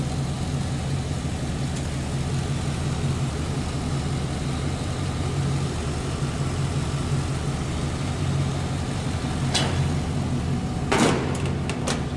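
A 1939 Chevrolet two-door sedan street rod engine idles steadily and smoothly at close range, a low even rumble throughout, with a couple of brief clicks near the end.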